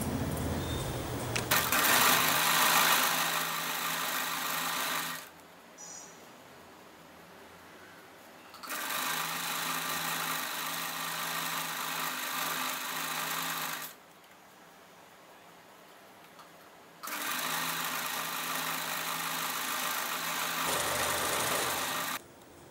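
An electric sewing machine stitches piping onto a garment neckline in three long, steady whirring runs separated by short quiet pauses, loud and close, with no talking.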